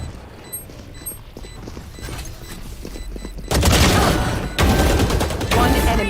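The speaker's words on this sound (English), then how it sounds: "Swarm grenade out." In the Valorant video game, a swarm grenade goes off: quieter in-game sounds give way to a sudden, loud, sustained crackle of rapid blasts that briefly drops out and then resumes.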